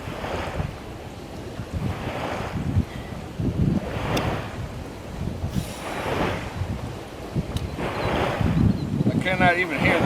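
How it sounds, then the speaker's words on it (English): Strong wind gusting on a bayou while fishing from a boat, loud buffeting rushes against the microphone in repeated surges, with water lapping underneath. "Folks, the wind is blowing me hard."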